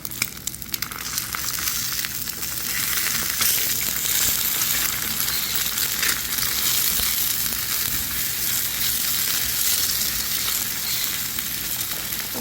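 Eggs for scrambled eggs frying in a hot pan, with a loud, steady crackling sizzle that holds evenly throughout, with scraping touches of stirring.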